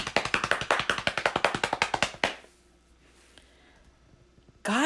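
Hands pat quickly on legs in a fast, even run of about twenty slaps that imitates rain, then stop abruptly, leaving near silence before a brief burst at the end.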